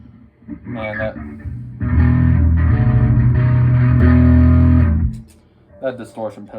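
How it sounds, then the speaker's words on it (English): A bass guitar with both pickups on, bridge pickup included, plays through a distortion pedal. Several seconds of thick, gritty sustained notes sit between bursts of nearby talk. "that distortion pedal is badass"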